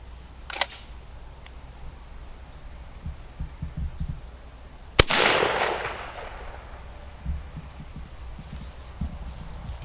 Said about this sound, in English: I'm gonna try Federal 7/8 ounce number 2 steel shot 3-inch out of the same gun, same choke.